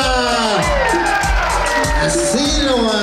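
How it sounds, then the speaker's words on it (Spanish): Guests at a quinceañera break into loud, sustained cheering and applause, with whoops and shouting voices rising over a dense crowd roar throughout. "Vamos a darle ese fuerte, fuerte, fuerte el aplauso para Alexandra y para Priscila."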